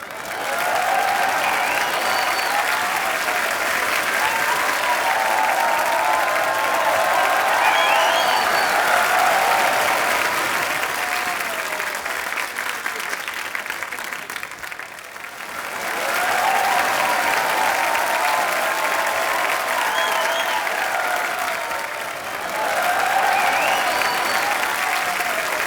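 Loud, sustained studio audience applause welcoming actress Ileana D'Cruz onto a comedy talk show stage, a dense wash of clapping that dips briefly midway and then swells again.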